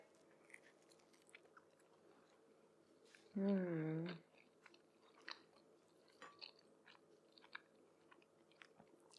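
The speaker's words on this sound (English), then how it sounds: "time to take a bite" A bite into a crisp pita bread mini pizza topped with mozzarella, pesto, harissa and roasted red peppers, one close, loud crunchy burst followed by soft, faint chewing in a quiet room.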